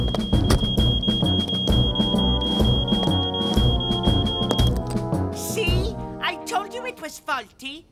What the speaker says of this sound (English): There's nothing wrong with that fire alarm, Norman, and you know it.